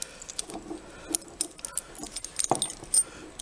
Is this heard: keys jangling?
yes